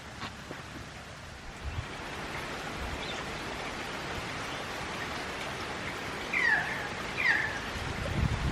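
Steady rain falling on a cold, cosy day, a soft even hiss that fills the whole stretch, faint and continuous, with a couple of brief small chirps near the end.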